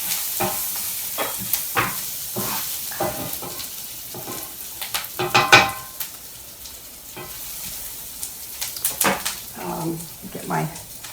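Onions frying in a pan, turning brown, sizzle steadily while a spatula scrapes and stirs them in irregular bursts, close by, with a person talking at times over the cooking.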